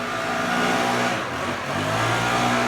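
A lawn mower runs steadily nearby as people cut grass outside, a continuous mid-pitched engine drone that swells and eases slightly, with no talk over it.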